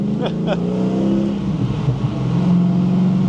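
A car cuts in close ahead of a Rover SD1 Vitesse and accelerates away with a steady rising engine note, heard from inside over the cabin drone, while people talk.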